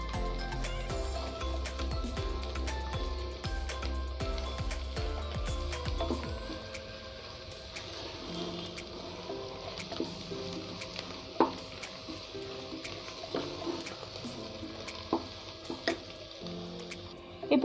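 Washed, cut mushrooms sizzle and fry in a pan for biryani, stirred with scraping and clinking, steady and close, with a low rumble in the first seconds that then drops away.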